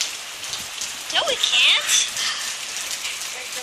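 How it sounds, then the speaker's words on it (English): Steady rain falling outdoors, a constant hiss of drops close by, with people talking over it and a brief whooshing swell in the middle. "A rainy day!"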